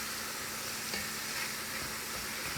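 Italian sausage browns in a pan with a steady, dense sizzle and frying hiss, close and continuous, with faint stirring scrapes mixed in.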